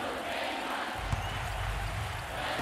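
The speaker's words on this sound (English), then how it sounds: "Listen to the crowd." A basketball arena crowd at an NCAA SEC Tournament game between Ole Miss and South Carolina keeps up a continuous roar of cheering, loud and diffuse, with a low rumble swelling midway.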